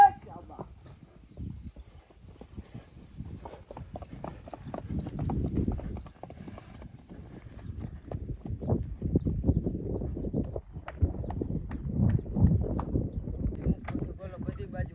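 A horse races with rapid, uneven hoofbeats on the ground, close by and growing louder toward the end, while people talk over the sound.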